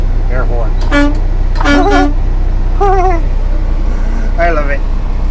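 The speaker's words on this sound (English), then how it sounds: "This is the air horn." Air horn on a custom Kenworth 100th anniversary edition semi truck, sounded in several short, wavering blasts with gaps between them, loud and close over a steady idle rumble.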